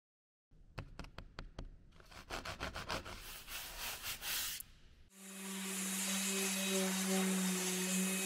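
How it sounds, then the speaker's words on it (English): Rough, rhythmic scraping strokes of 80-grit sandpaper rubbing a cured fiberglass surface, about a dozen passes, followed by a steady loud hiss with a hum. "it can be lightly sanded with 80 grit sandpaper"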